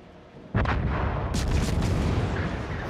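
Naval artillery fire in the World of Warships video game, a sudden loud boom followed by sustained rumbling and a second burst of crackling gunfire, dense and heavy throughout.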